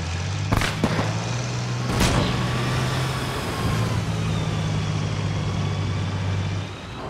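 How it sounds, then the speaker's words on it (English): A tank drives in the video game Cerberus Company, a steady low engine rumble with a whining drivetrain, broken early by a few sharp clanks or impacts. "Tank, tank."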